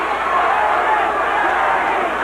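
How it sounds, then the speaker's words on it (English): A boxing crowd at the 1986 WBC heavyweight title fight between Larry Holmes and Michael Spinks keeps up a loud, steady chant and roar for the whole stretch, dense and close, with no break. "They all chanting Larry, Larry."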